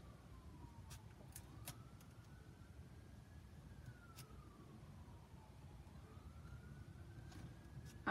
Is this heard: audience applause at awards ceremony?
no